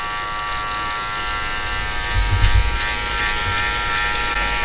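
Electric hair clippers with a number 1 guard, lever set halfway, fading hair during a skin fade haircut; a constant close buzzing hum runs throughout, with slight swells as the blades move through the hair, no talk.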